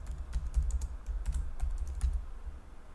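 Close, fairly quiet typing on a computer keyboard while a password is entered during server setup, with light irregular key taps and no voices over a low steady hum.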